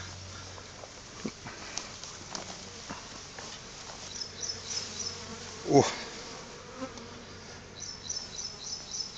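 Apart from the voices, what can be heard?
bees buzzing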